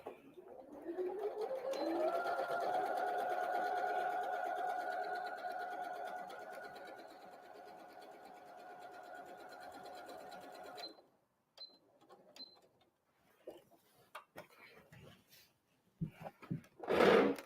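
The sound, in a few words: sewing machine stitching Christmas tree napkin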